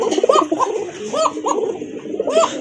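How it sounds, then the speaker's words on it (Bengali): A Rajgolla pigeon gives a chest coo at a pigeon loft: several rounded, throaty coos repeat close by at an uneven pace, with soft background noise and no talk. "বুকের ডাকটা দেখেন এই যে শুরু হয়ে গেছে"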